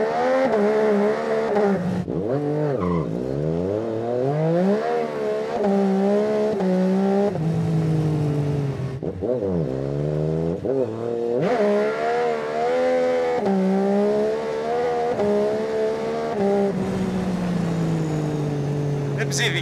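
A Yamaha Tracer motorcycle accelerates hard at night, its engine note rising through repeated gear pulls with sharp drops between shifts, loud and close throughout.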